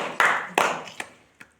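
Four sharp claps sound one after another at uneven gaps in a classroom map-reading game naming Indian states, fairly near and clear, the later ones softer.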